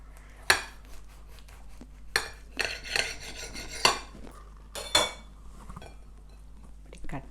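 Knife cutting through an air fryer chicken wrap on a plate, giving several sharp scraping clinks of cutlery against dishware spaced over a few seconds, close and fairly quiet with no talking.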